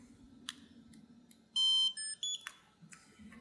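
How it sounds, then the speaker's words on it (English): A barcode scanner entering pairing mode gives three clear electronic beeps in quick succession, short bright tones over a quiet background. "You'll hear the scanner beep three times to indicate that it's in pairing mode."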